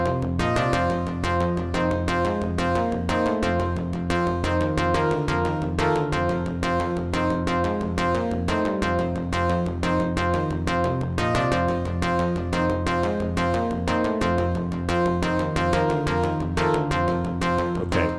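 A synthesizer plays a steady, repeating rhythmic pattern with punchy notes and a driving beat, loud and continuous with no talking.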